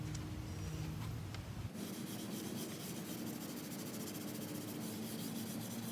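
Quiet, steady abrasive rubbing of 400-grit sandpaper worked back and forth over a car's clear coat, continuous and close with no talking.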